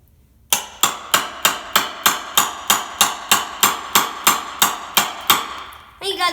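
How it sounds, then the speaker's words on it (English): Steady hammer blows drive a chisel into wood, about eighteen evenly spaced sharp knocks, each with a short decay, loud and close, ending in a brief rustle. "It's not really the best piece of wood to go chiseling on"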